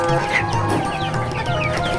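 Several chickens cluck and chatter in a busy flock, steady overlapping calls with a constant background hum of a farm shed.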